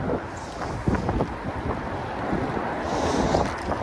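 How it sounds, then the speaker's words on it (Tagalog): Strong wind buffets the microphone during a bike ride, a steady broadband roar with gusty surges and low rumble throughout, no voices. "malakas yung hangin."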